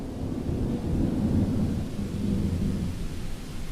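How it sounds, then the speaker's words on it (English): A thunderstorm rolls in as a steady low rumble of thunder with a rain-like wash, heard alone and fairly soft, swelling slightly midway without any sharp cracks. "the storm drifts in"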